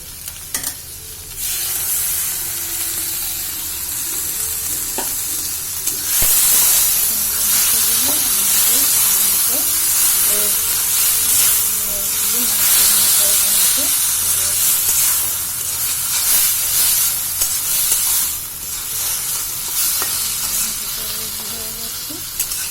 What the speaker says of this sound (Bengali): জিরে বাটাটা আমি গুলিয়ে নিয়েছি, এখন দিয়ে দেব।